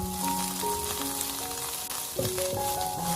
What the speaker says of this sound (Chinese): 这里炒的时候我们要多炒一会儿，大概炒个1分钟左右